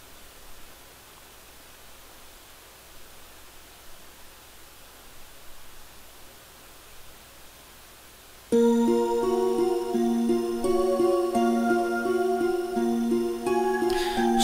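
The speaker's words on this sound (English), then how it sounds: "Interdimensional elevator launch. Wow, that sounds pretty high tech." An interdimensional elevator launches in Final Fantasy IV The After Years on iOS. A long stretch of soft hissing static gives way abruptly to loud, tonal, pulsing synthesized game music.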